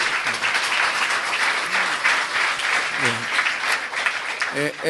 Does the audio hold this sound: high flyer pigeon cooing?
no